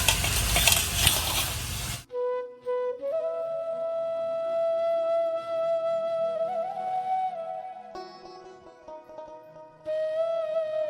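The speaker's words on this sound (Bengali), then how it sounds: "তো এখানে আমি মশলাটা কষিয়ে নিচ্ছি মাছের ঝোলের জন্য।" Spice paste frying for a fish curry gives a loud, crackling sizzle for about two seconds, which then cuts away to melodic music with no cooking sound.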